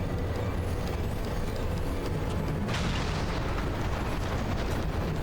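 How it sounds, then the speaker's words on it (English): Airship cannons fire in the video game Final Fantasy XIV as a dense, loud barrage of booms and rumbling blasts, steady throughout, with a sharper burst partway through. "All cannons return fire."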